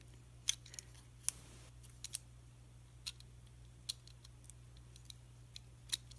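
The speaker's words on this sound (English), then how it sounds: "I'm just going to put a cut in the back paper" Scissors snipping through backing paper during a craft project, a series of small crisp cuts spaced irregularly, quiet and close over a steady low hum.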